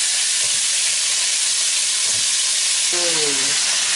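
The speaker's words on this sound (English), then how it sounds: "That's the kind of sizzling that you want to hear." Loud, steady sizzling and frying hiss of goat meat in a pot for curry fills the clip, close by, with a brief scraping stir near the end.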